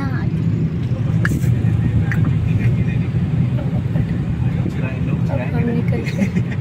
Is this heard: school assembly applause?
no